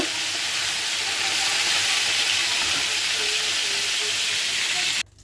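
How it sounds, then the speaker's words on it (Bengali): Fish pieces sizzle steadily in hot oil, a broad, loud, continuous hiss that holds until it cuts off near the end, with no voices. "এক এক করে আমি আর মাছগুলো দিয়ে দিচ্ছি গরম তেলের মধ্যে ভাজা করে নেবো"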